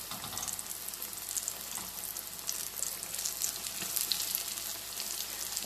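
Oyster mushroom pieces fry in hot oil for a hot and spicy vegan fried dish, giving a steady dense sizzle with crackling pops throughout, fairly close and without voices.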